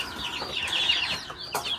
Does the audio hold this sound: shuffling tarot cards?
no